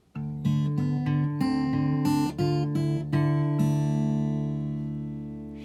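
Acoustic guitar picks a short run of single notes, then lets a final chord ring out and slowly fade.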